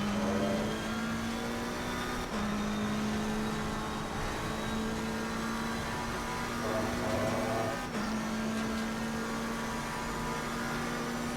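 An Aston Martin race car engine in Assetto Corsa Competizione on Xbox Series X, racing at Zandvoort, drones at a steady high pitch, holding its revs with a couple of brief gear-change dips, continuous and prominent throughout.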